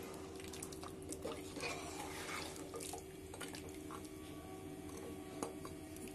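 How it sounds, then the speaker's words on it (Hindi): Water is poured into a cooking pot of tinde gosht, a close, continuous trickling splash with faint drips and ticks, steady and moderately quiet with no talking. "ये देखिए हमने आधा लीटर पानी डाल दिया"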